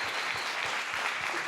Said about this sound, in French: Oui, bah bien sûr qu'on peut applaudir Tani.